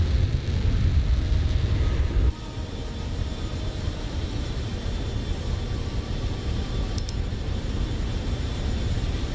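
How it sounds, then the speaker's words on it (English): An F-18F Super Hornet jet cruises in Microsoft Flight Simulator, a steady broadband engine roar holding even and loud throughout with a slight drop in level early on. "we're F-18F Super Hornets flying from the Mojave and Spaceport to Spaceport America, New Mexico"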